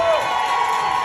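A comedy show audience in San Antonio, Texas cheers and whoops in a brief, steady burst of crowd noise that stays loud and continuous throughout.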